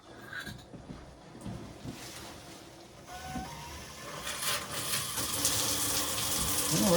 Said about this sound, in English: let's turn it on and see what we got